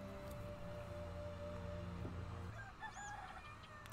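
A chicken clucks and crows in a Town of Salem 2 game scene, a faint bird call over a steady droning game background with no voices.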